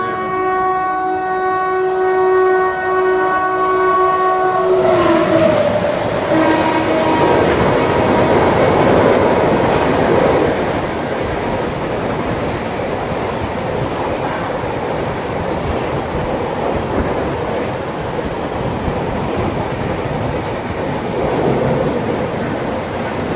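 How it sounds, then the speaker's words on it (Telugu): Humsafar Express train pulling into a station, a loud horn blast at the start giving way to a long, heavy rumble of wheels and carriages rolling in close by. "ఆల్రెడీ ఇక ట్రైన్ కనబడుతుంది."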